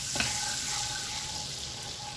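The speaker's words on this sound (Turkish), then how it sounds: "sadece bir tur karıştıralım" Turmeric being stirred into melting butter in a pan for kuymak, a steady soft sizzle with faint scraping from the stir, close and continuous without talk.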